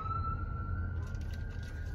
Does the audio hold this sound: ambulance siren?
yes